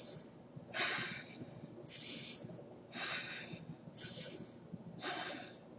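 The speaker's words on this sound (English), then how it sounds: "this is diaphragmatic breathing" A person demonstrating slow diaphragmatic breathing draws five loud, close, airy breaths in a steady rhythm about a second apart, each with a breathy hiss and a slight snorting edge.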